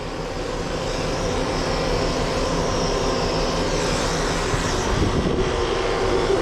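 A clipper vacuum runs steadily while a dog is groomed, a continuous droning whir of motor and suction holding at an even level throughout, with no talk.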